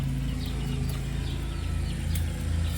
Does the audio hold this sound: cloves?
no